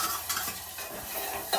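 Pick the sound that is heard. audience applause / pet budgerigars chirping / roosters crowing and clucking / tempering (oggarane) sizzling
tempering (oggarane) sizzling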